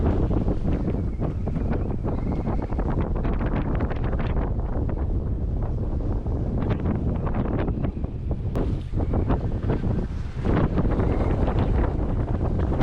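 Wind roars and buffets a microphone aboard a 28-foot sailboat running downwind across the Kattegat, a loud continuous rush with gusty surges and flapping bursts throughout.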